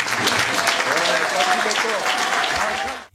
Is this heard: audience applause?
yes